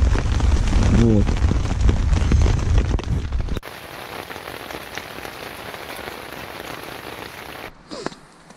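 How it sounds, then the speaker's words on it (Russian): Heavy rain drums steadily on a tent overhead, loud at first with a voice briefly audible, then a softer continuous patter that fades near the end. "с утра идет дождь. Довольно-таки сильный."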